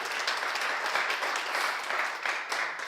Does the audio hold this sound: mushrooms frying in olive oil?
no